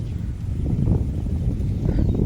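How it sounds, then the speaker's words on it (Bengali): Wind blows through a garden with banana leaves and a hanging weaver bird nest, heard as a continuous low, rumbling buffet against the microphone, fairly loud and unbroken, with no voices. "এ দেখা গেছে কিরকম হাওয়া দিচ্ছে দেখো।"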